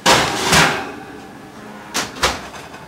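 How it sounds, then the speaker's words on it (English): An oven door opens with a couple of clunks and a rattle, then two more knocks follow, close and fairly loud, with no talking. "Opening the door lets that temperature go down so it won't be too bad."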